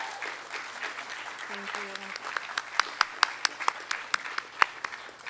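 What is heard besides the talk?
applause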